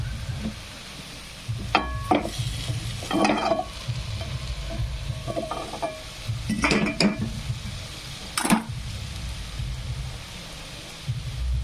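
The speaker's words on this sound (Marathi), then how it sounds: "सर्व मसाले फ्राय झालेले आहेत आपण टाकून घेऊन घेणार आहोत शेंगा" Cluster beans tumble into a pan of frying spices, a steady sizzle under scattered clinks and scrapes of a spoon stirring against the pan.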